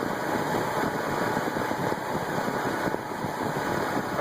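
A Chevrolet Trailblazer's 4.2L engine runs at about 1,200 RPM during a low oil pressure check, with 155,000 miles on it. It gives a steady, loud, close-up drone with a slight mechanical rattle, and no voices are heard.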